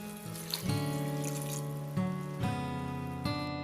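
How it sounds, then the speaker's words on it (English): Half a tumbler of water poured into prawn biryani gravy in a pan gives a faint, close pouring and splashing with tonal ringing that rises, pauses and resumes in a few short bursts. "I'll add half tumbler of water."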